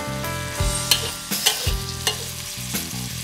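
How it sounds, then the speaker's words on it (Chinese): Luffa and minced garlic stir-fried in a wok give a steady close sizzle, punctuated by several sharp clanks and scrapes of the spatula against the metal at an irregular rhythm. "锅里留一点底油，爆香蒜末，然后下丝瓜翻炒"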